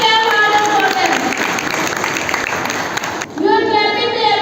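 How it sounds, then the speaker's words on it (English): An audience at a school event applauds children with dense, sustained clapping that fills the room, dropping briefly near the end before resuming as a voice speaks over it. "Please clap harder for them."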